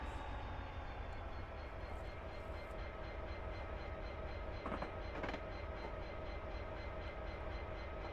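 A freight train rolls steadily in a railway simulator game set on the Settle to Carlisle line, giving a constant low rumble with faint rhythmic clicks of the wheels and a couple of brief clatters.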